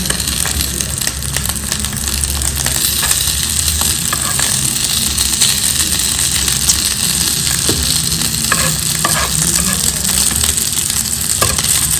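Frozen momo crisping in a hot pan, a loud, dense, continuous sizzle and crackle of frying oil held steady throughout, close up with no talk.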